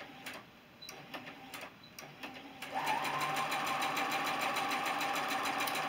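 A sewing machine stitching quilt block fabric, starting with a few short taps, then settling into a steady, fast, close mechanical whir with a rhythmic clatter.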